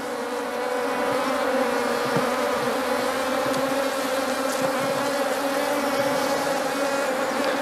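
Honeybees swarm around an opened hive as smoke is puffed over the top, a dense continuous buzz close by and steady in loudness, with no talking.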